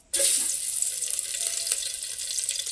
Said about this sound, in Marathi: तेल ओतलं. आता ही फोडणी